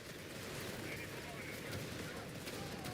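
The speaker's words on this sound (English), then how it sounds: "Mortar fire overhead!" Distant mortar and gunfire rumble in a Company of Heroes 3 multiplayer battle with the Deutsches Afrikakorps, a faint, continuous barrage of thuds and crackles layered under game voice chatter.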